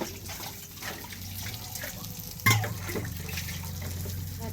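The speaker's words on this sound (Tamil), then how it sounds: "கையோட பாத்திரத்தை கழுவலான்ட்டு கழுவிட்டு இருக்கேன்" Tap water running steadily into a sink while dishes are washed by hand in a home kitchen, with a brief clatter partway through, moderately close, under faint background voices.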